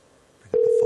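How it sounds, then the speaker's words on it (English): Outgoing phone call tone over a Bluetooth connection: a quiet click and rustle, then a steady, loud electronic tone that starts abruptly and holds without a break to the end. "we'll just give her a ring and see if she answers."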